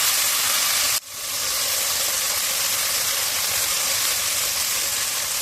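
Onion, ginger paste and garlic paste fry in a pan for fried rice, giving a loud, steady sizzle that cuts out sharply for a moment and then swells back, with no voices.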